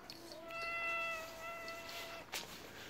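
A Siamese cat gives one long, drawn-out meow, fairly faint against steady background noise, followed by a short rustle.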